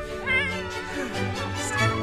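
A cat in The Sims 4 gives a series of clear, fairly close meows, rising and falling in pitch over about two seconds, heard alone without talk.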